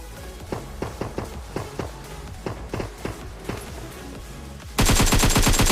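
Gunfire in a battle royale shooter: a series of sharp, evenly spaced shots fired one after another at close range, followed by a sudden loud burst of dense, continuous automatic fire at the end.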